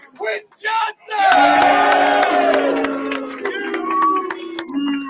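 Chargers versus Chiefs stadium crowd roaring and cheering, a sustained loud swell of massed voices with clapping that builds after a brief spoken voice and then slowly fades.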